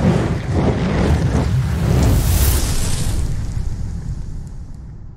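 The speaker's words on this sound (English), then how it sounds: "Sorry, it's a little windy." Heavy wind buffeting the microphone, a continuous low roaring rumble that swells and eases without any voices.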